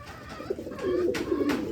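Pigeons coo in low, throaty, repeated calls at close range, drawn out and overlapping in the second half, with no one talking over them.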